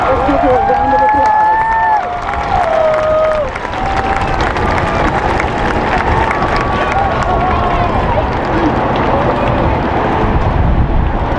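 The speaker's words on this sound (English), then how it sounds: "Let's give her a round of applause." An audience at a graduation ceremony applauds a teacher of the year, broad steady clapping from a large crowd filling the hall throughout, with a few voices rising briefly near the start.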